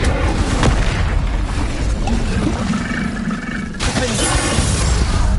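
An Incendio fire spell from Hogwarts Legacy erupting in a loud, dense burst of flame and roaring noise, with a sudden sharp whoosh and crackle partway through amid continuous battle din.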